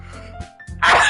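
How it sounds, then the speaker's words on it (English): A single sharp human sneeze bursts out loudly at the end after a brief intake of breath and some murmured sounds, close and abrupt. "There was a sneeze, I sneezed!"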